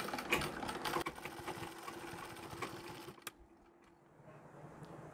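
Sewing machine stitching the back section of a Marathi-style saree, a steady close mechanical whir running for about three seconds before stopping, leaving a quieter room.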